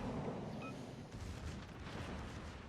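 Battleship secondary guns fire in a video game naval battle, a dense rumbling barrage of booms that rolls on through the whole stretch with no clear gaps.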